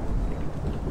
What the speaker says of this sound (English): That thunder freaks me out.